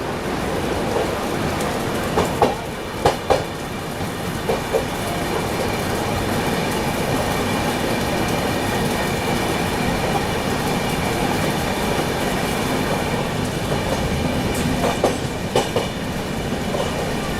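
A train runs steadily with a continuous rolling rumble, passing another train, the Punjab Mail, on the adjacent track; a few sharp clicks of wheels over rail joints stand out near the start and again near the end.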